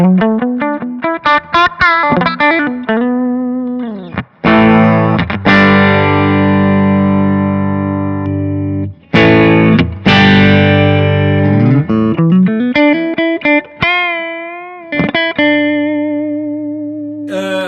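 Electric guitar, an Explorer, through a Harley Benton Vintage Overdrive pedal playing sustained riffs and held chords, loud and close, with a gritty, saturated tone and no talking.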